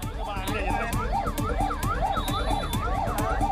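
Fire brigade sirens wail at a blaze in the Oshiwara furniture market in Andheri West, several overlapping sirens rising and falling in a fast repeating sweep, loud and close with a voice talking over them.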